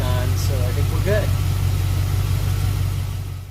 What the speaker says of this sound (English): The car's purring like a kitten, it's running fine